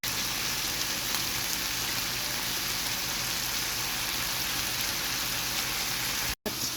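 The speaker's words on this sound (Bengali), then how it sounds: "চিকেনগুলো ভেজে নিচ্ছি" Chicken pieces fry in oil in a pot, giving a steady, even sizzle and crackle at moderate level that runs unbroken, with one brief dropout near the end and no voices.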